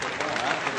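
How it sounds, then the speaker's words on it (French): Dense applause from an audience of about 4,500 at a comedy show in Papeete, Tahiti, fills the short moment, a steady broadband wash of many hands clapping at once, fairly loud and close. "C'est parti, Vesco, sous vos applaudissements, cher public."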